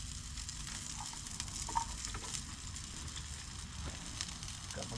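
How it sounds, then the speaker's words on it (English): Food fries in hot olive oil in a metal mess kit, making a steady, close crackling sizzle with small pops throughout and no talk. "We'll let them fry up."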